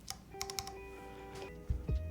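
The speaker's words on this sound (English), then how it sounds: "God, I love the sound of cherry stabs." Keystrokes on a Vantage mechanical keyboard fitted with Cherry stabilizers: a quick cluster of close, crisp clicks, a pause, then two heavier, deeper thocks near the end.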